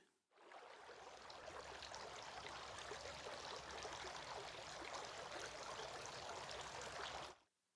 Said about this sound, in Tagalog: nagbuhos ng tubig sa kanyang mga kamay at hinugasan ito ng 3 beses